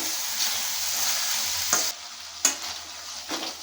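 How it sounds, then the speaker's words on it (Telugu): Long eggplant pieces fry in oil with ginger garlic paste and turmeric, a steady close sizzle broken by a few sharp scrapes as a spoon stirs the pan. "వంకాయలు వేగాయండి అల్లం వెల్లుల్లి పేస్ట్ కూడా వేగింది"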